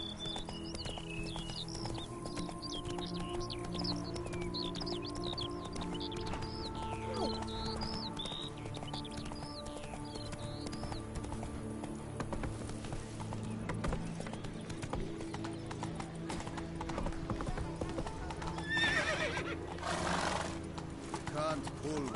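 In The Witcher 3, Roach's hooves drum in a long, even gallop with neighs, under a voice talking, with faint bird chirps early on.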